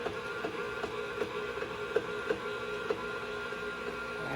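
Hand-cranked pasta machine rolling sheets of pasta dough for fettuccine; a soft, steady mechanical whir with faint rhythmic clicks from the turning crank, quiet and close, with no talking.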